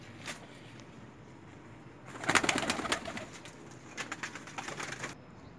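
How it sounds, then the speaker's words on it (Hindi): Soft pigeon cooing with rustling and fluttering, busier in the middle and toward the end, close by in a quiet enclosed pigeon loft. "ये मेरे लॉफ्ट के दूसरे कबूतर माशाल्लाह सारे सेहतमंद हैं"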